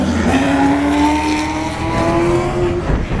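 A drift car at a practice day screams past on its laps, engine wailing at high revs over a sustained tyre squeal, loud and close.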